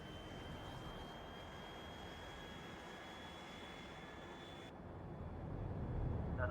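An airplane in the video game Factorio flies with a steady, droning engine hum that stays level and fills the background, growing slightly heavier near the end, with no talking.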